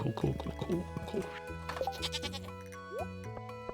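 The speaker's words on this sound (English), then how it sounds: "Okay, hate those goat sounds." Several goats bleat nearby in rough, quavering calls, some overlapping and others spaced out, with light background noise between them.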